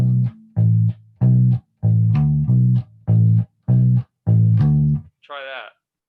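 Bass guitar notes played an octave lower come in a sequence of about nine deep, round plucked tones, each held briefly with short gaps between, clear and close, ending with a brief higher buzzy sound.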